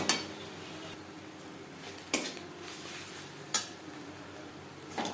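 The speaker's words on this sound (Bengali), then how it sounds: "এইভাবে নাড়াচাড়া করে ড্রাই করে দেবো।" Ghatkol leaf paste being stirred in a pan over low flame to dry it out, a soft scraping hiss with several sharp spatula knocks against the metal.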